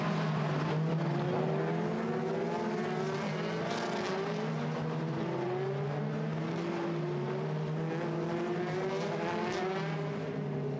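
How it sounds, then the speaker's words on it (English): Formula E racing cars at Portimão stream past on the circuit, a continuous high electric whine rising and falling as one car after another passes nearby, steady and loud without pause. "As the rest of the cars filter through, Ferrucci attacking George Russell."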